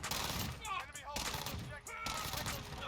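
A Fennec gun in a video game fires in rapid automatic bursts, loud and close, with three long strings of shots separated by brief pauses and a voice talking over the gunfire.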